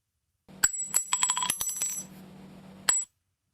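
Several sharp metallic pings and clinks in quick succession, .50 caliber brass shell casings dropped and rattling, then one final ring after a pause.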